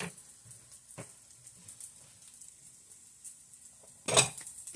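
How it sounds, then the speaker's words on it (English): Onions sizzling faintly in a pan for an omelette while being stirred, with a soft steady hiss, a few light scraping knocks and one sharper clatter of utensil near the end. "And get the onions stirred up a bit. Make sure nothing's burning."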